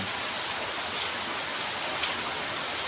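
Heavy rain pours down in a steady, dense roar of falling water, loud and close, with no voices heard.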